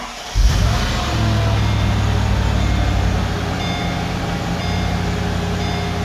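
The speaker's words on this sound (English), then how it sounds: "let me turn the car on" Mercedes-Benz SL55 AMG V8 starting inside a closed garage, a sharp loud catch followed by a steady, deep, droning idle that holds strong and even throughout.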